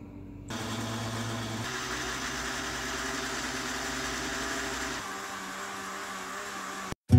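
A blender whirs steadily for several seconds, blending pineapple, banana, pineapple juice and vanilla yogurt into a smoothie, its motor pitch dropping partway before it stops abruptly.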